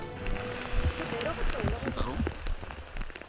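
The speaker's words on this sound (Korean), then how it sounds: "위장 크림이 모두 지워질 정도로 거세진 빗방울." Heavy rain pouring down during mountain survival training for air force pilots, a dense hiss of drops on surfaces heard under a voice speaking throughout.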